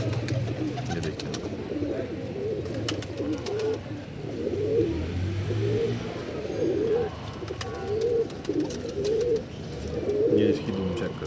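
Pigeons coo in repeated soft, throaty rolls close by, with someone talking over them and occasional faint chirps in the background.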